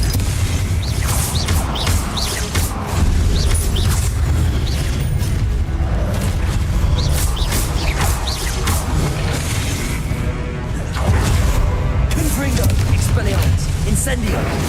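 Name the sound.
spells cast in the video game Hogwarts Legacy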